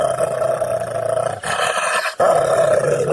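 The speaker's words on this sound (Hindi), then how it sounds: "जितेंद्र एक शैतान में बदल जाता है और गुर्राने और चिल्लाने लगता है" A cartoon demon growls and roars in a Hindi animated comedy, a continuous loud, rasping snarl with a brief break in the middle before the roar swells again, heard alone without talk.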